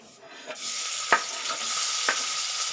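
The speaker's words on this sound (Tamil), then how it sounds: "இப்போ நம்ம வெங்காயம் பச்சை மிளகாய் இஞ்சி போட்டுக்கலாம்" Onion, green chili and ginger go into a hot pan for egg bhurji, starting with a soft sizzle that builds into a steady frying hiss, with two sharp spatula taps against the pan, no talking.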